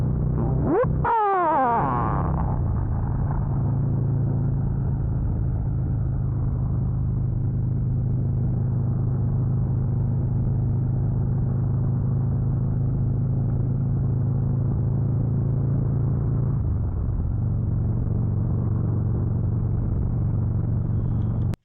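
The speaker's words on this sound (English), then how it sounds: "that was just a few clips from me riding the street glide" Harley Davidson Street Glide Special motorcycle riding with a deep, steady engine rumble and wind roar throughout, with a brief rising rev near the start.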